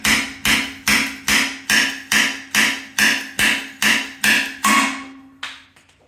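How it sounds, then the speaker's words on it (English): A slide hammer pulls a dent from a metal motorcycle part in a steady run of about a dozen sharp, ringing clanks, evenly spaced and close, ending with one faint final knock. "And then we go with our slide hammer here."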